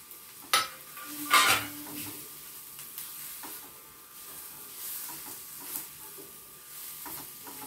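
Onions sautéing in a pan for gravy, a quiet continuous sizzle with a couple of louder scraping stirs and utensil clinks near the start, then a steady low frying hiss.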